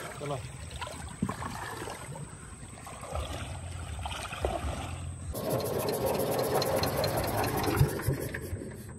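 A small motor boat engine on a river at early morning, out for hook fishing, starts up and runs with a steady low drone that grows louder and fuller, near and continuous over faint water sounds.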